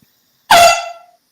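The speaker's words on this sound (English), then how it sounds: "You didn't air horn me, bro." A single loud air horn blast, sudden and close, sounding for about half a second before fading quickly, otherwise silence.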